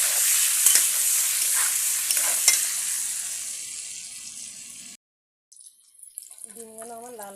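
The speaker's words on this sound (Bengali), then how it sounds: "একটু লবণ আর একটু হলুদ দিয়ে ডিমগুলো আমি ভেজে নিব।" Eggs frying in a pan with salt and turmeric, a bright close sizzle with stirring clicks that fades, cuts out, then gives way to a voice speaking.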